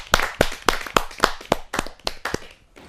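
Audience at a Hindi poetry gathering clapping in unison to welcome a poet, about ten sharp, evenly spaced claps in a steady rhythm, close and clear, tapering off at the end.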